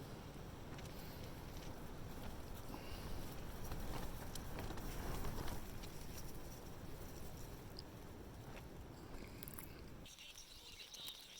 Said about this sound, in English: A bit windy now.